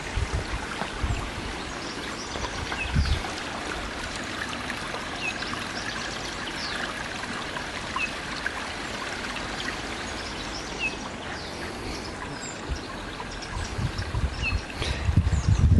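A stream flowing around and across a fallen tree outdoors, a steady, close rushing and trickling of water that continues without pause, with faint bird calls now and then.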